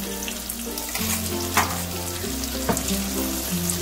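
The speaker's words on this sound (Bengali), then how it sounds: "আদা রসুনটা একটুখানি ভেজে নেবো, কাঁচা গন্ধটা যাওয়া পর্যন্ত" Garlic paste sizzles in a hot pan with a steady, close frying hiss, broken by a couple of soft stirring scrapes over a low steady hum.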